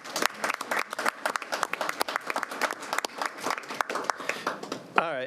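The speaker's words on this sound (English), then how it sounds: "I think we should give him a round of applause." A planning commission audience applauds a newly AICP-certified planner, a burst of individual claps forming steady, moderately close applause that ends abruptly with a brief voice at the close.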